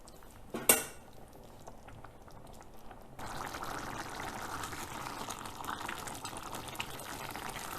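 A pot of potato and pea pilaf with lemon juice boils uncovered, starting with a sharp utensil clink against the pot, then a steady bubbling simmer that swells and continues.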